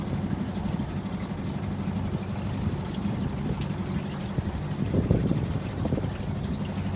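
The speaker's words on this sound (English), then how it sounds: "The start of where the little waterfall is." Small waterfall on Lake Livingston in the East Texas piney woods, a steady rushing pour of water heard up close with a low motor rumble underneath, no voices.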